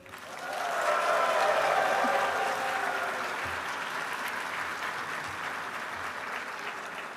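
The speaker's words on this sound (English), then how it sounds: "I want you all to cheer, clap, shout, so we can see just what your volume levels are like" Graduands at a ceremony clapping, cheering and shouting together, a loud wash of applause and crowd noise that swells in the first seconds, then holds steady and slowly eases off.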